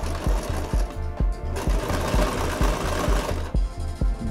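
A sewing machine stitches around the edge of a piece of fabric in quick bursts of rhythmic mechanical clatter, pausing briefly between runs, close and clear with no talking.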